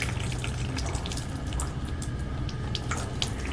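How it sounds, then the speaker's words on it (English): Water spills from the overfilled tank of a desktop hair removal machine, a steady close trickle and splash with faint drips on top. "The machine water is full, so there is water spilled."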